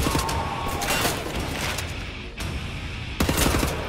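Gunfire in Wolfenstein: The New Order, with loud, close bursts of rapid shots at the start and again near the end, separated by a brief lull.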